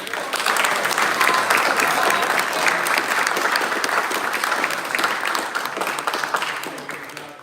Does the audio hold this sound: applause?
yes